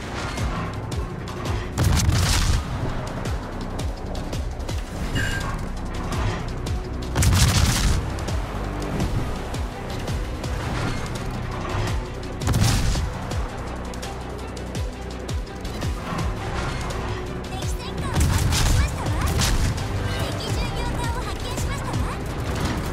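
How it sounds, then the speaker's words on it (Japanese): Warship main guns firing in the naval video game Azur Lane, a series of heavy booming blasts at irregular intervals over constant battle noise and game music. "主砲発射ですわ。"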